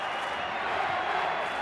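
A crowd of 18,000 at a 1995 Manly versus Cronulla rugby league match, a continuous dense roar of distant voices with a commentator talking over it.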